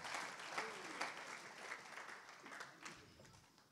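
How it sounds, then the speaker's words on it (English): A church congregation breaks into applause, a broad burst of hand clapping that gradually thins and fades, with a few voices calling out and a sung note rising through the clapping. "Give the Lord a hand clap for the reading of the word."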